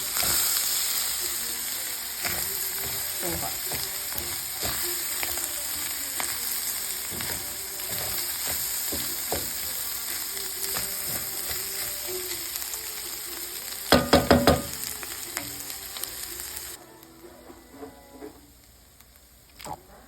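Rice and other stuffed-pepper filling ingredients fry in a pan, a steady close sizzle with scattered stirring clicks and a quick burst of utensil clatter before the sizzling drops much quieter, while a voice briefly speaks.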